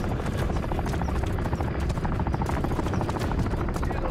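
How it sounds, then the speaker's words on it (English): An armored helicopter hovers overhead in the Call of Duty Modern Warfare 3 mission "Reactor," with a loud, steady rotor drone and dense chopping filling the whole stretch, no voices. "Kony armored helo is overhead."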